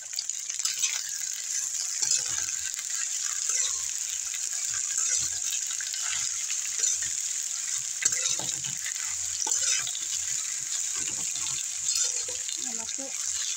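Okra sizzling and frying in a large kadai, a steady crackling hiss throughout with occasional scraping stirs, and a voice speaking now and then over the cooking.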